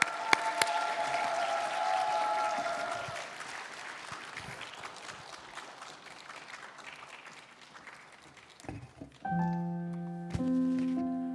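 A church congregation at a prayer-meeting testimony night claps for about nine seconds, a dense, moderately loud patter of many hands that eases off before sustained instrumental tones come in.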